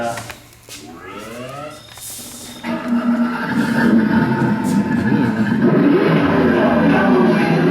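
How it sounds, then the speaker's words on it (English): The engine of a MKIV Toyota Supra with a 5.0 engine, a cam and a straight pipe dual exhaust rumbles loudly and steadily after a short pause, following a few moments of voices nearby. "got that sick straight pipe dual exhaust on it"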